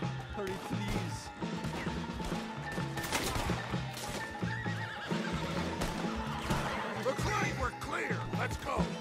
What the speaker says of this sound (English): Horses are over there! Grab Strauss and let's go!